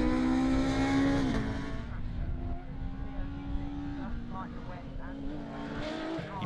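A rallycross car on a tarmac section powers out of a hairpin and climbs through the gears, its loud engine note rising and dropping at each upshift, with a commentator talking over it.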